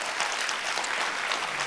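Audience applause fills a Kazakh TV studio programme, a dense, steady wash of many hands clapping at once, loud and continuous without a break.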